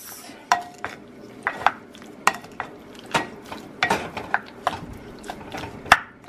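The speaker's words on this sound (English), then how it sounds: "And now we can just mix." A spoon stirring baked sambusa filling in a bowl, irregular scraping and clinking strokes against the bowl with soft squelches, close and moderately loud.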